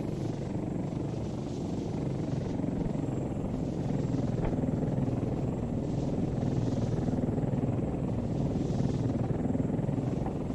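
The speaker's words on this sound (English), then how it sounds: "There's a chopper at the base." A helicopter sits at the base in the video game Arma 3, its rotor and engine giving a steady, loud, rumbling drone that continues unbroken throughout with no talk.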